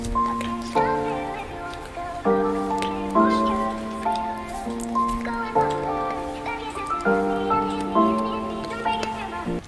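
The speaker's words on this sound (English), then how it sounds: "this vocal chop right here is probably my favorite part of the beat" A beat of repeating piano chords with a pitched vocal chop layered on top, looping steadily at moderate loudness with no one talking over it.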